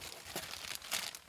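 Velcro on a Molle panel pouch, fitted to the rear cargo area of a 5th Gen 4Runner, rips open in a short, close crackling tear with a couple of brief rasping bursts.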